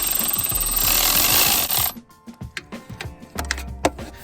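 A socket wrench works a spark plug loose on a Yamaha Grizzly ATV, first a sustained grinding whir, then a series of distinct ratcheting clicks and clunks up close.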